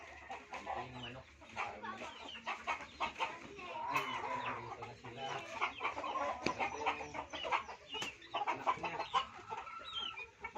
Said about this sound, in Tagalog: Ito yung manok.